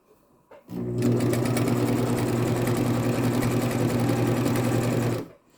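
A sewing machine runs steadily, stitching a seam in one continuous burst of about four and a half seconds, loud and close, with a firm humming drone and fast rhythmic needle chatter, starting and stopping abruptly with no talking.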